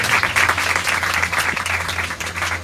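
Congregation at an Urdu-Hindi church sermon applauding loudly, a dense steady wash of clapping sustained throughout, with a low hum underneath.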